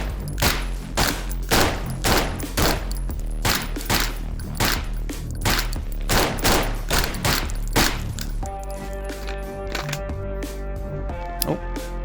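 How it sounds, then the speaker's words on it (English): Guns firing at a shooting range in a VR game: rapid bursts of loud sharp shots in a quick repeated rhythm, followed near the end by metallic clicks and clatter of handling. "This is just a fun place where I put some guns in, some magazines, and you can just shoot."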